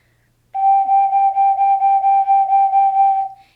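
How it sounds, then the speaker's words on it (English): Ocarina holding one sustained note with steady, pulsing vibrato that wavers about eight times over three seconds, played alone and close, then fading out. "That technique is called vibrato."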